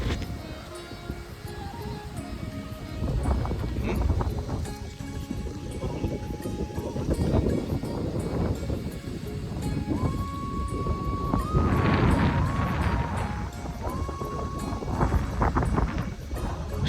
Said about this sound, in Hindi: यहाँ क्या ठंडी ठंडी हवा चल रही है। आवाज़ सुनो हवा की